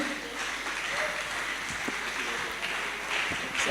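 An audience at a graduation ceremony claps and rises to its feet in warm welcome of a speaker, dense sustained applause with scattered louder claps throughout.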